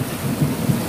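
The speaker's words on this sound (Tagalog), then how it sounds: "Ayan na, kumukulog na." Thunder rumbles low and close during a rainstorm, a brief heavy roll over the wash of falling rain, with no voices.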